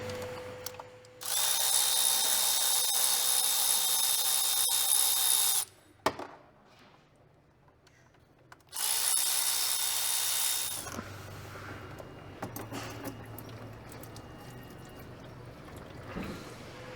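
A power ratchet spins out transmission filter bolts on a Ford F150 with a 10R80 gearbox, two loud sustained whirring bursts separated by a quieter pause, followed by faint clinks and handling noise.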